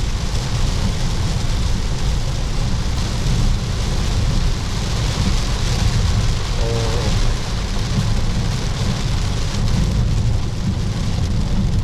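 Heavy rain drums hard on a moving car during a mountain drive, with thunder rumbling. The downpour is loud and constant, a dense hiss that fills the whole stretch, and no one speaks.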